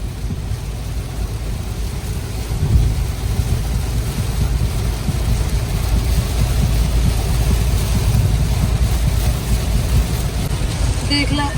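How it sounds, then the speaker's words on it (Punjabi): Heavy rain pours down outside in a steady, loud, dense roar that holds evenly from start to finish with no breaks. "ਕਿੰਨੀ ਤੇਜ਼ ਮੀਂਹ ਆ"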